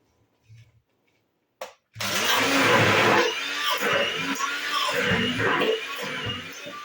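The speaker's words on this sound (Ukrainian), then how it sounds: "Тепер я його беру погружним блендером перебиваю." A loud, steady electric whir of an immersion blender churning a thick tomato mixture for ketchup, starting abruptly after a couple of brief clicks and running continuously with slight pitch wobbles.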